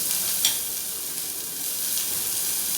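Tomatoes, green chili and curry leaves sautéing in a pan for a broad bean and tomato curry, a steady close sizzle with a couple of brief stirring scrapes.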